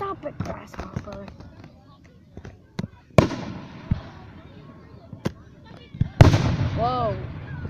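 A Columbus fireworks display fires a run of scattered pops, then two heavy booms with crackling tails a few seconds apart, with nearby voices talking and exclaiming between the blasts.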